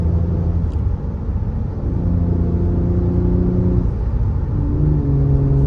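A cold Audi A6 engine idles and runs smoothly, a low steady rumble with gentle pitch shifts as revs rise and settle, heard from inside the car with no talking.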